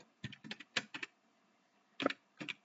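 Keys clack on a computer keyboard while CSS and HTML code is typed, a quick burst of close, crisp strokes followed by a pause and then a second short flurry.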